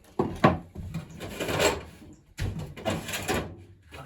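Workshop drawers are opened and closed while hunting for tools, giving two bursts of wooden sliding and rattling with a knock of contents, close and fairly loud, separated by a short pause.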